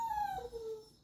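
A pet dog in a room lets out a single short, faint whine that slides downward in pitch, heard alone with no voices.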